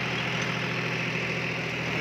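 A 40 HP John Deere 5105 4WD tractor with a 2930 cc engine runs steadily while driving a Maschio Virat Pro rotavator through soil, giving a constant, dense mechanical drone with no voices.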